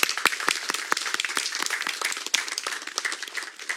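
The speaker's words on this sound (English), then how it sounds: "And a round of applause, please," A community audience breaks into a round of applause, crisp individual claps standing out over the fuller patter of the crowd, continuous and fairly close throughout.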